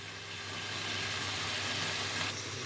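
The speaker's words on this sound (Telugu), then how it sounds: "ఉల్లి కాడలు, కొత్తిమీర కాడలు అవి కూడా ఆకులు పక్కన పెట్టుకొని కాడల వరకు నూనెలో వేస్తున్నాను" Spring onion and coriander stalks sizzling in hot oil for a Nellore-style fish curry, a steady close hiss that carries on evenly.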